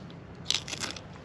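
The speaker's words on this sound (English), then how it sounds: "Nice and crunchy, just like potato chips." Close bites into crunchy fried crappie fish give a quick, crisp crackling crunch lasting under a second, with quiet chewing after in an otherwise still setting.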